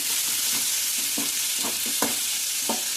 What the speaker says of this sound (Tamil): இதை வந்து நல்லா இப்படி வதக்கி விட்டுக்கலாம்.